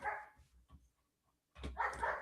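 Indoor dog letting out a few loud, close barks, a short run at the start and another after a brief silence.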